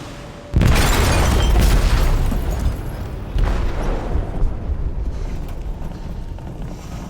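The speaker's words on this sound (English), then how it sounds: "They detonated an explosive in the hold." An explosive detonates in a ship's hold in the video game Detroit: Become Human: a sudden loud boom erupts, rumbles on, then a second heavy blast hits a few seconds later and trails into ongoing creaking, roaring noise.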